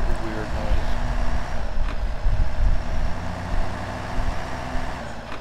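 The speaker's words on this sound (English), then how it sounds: "All these diesel trucks kind of have that weird noise." A diesel truck engine in the video game SnowRunner rumbles low and steadily, with a gravelly drone and faint hissing, while a voice talks over it.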